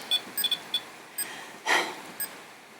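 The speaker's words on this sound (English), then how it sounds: "Everything's beeping and blinking." Electronic meters used in a paranormal investigation give off scattered short beeps and chirps at uneven intervals, with one louder burst of tone partway through, heard faintly in a quiet room.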